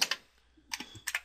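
Quick bursts of keystrokes on a computer keyboard, a few close clicks at the start and again near the end with a short pause between, entering a name during an Ubuntu 12.04 setup.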